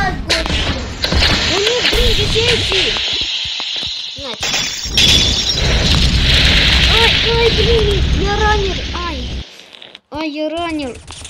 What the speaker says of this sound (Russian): Взрывайте танк. Взрывайте танки.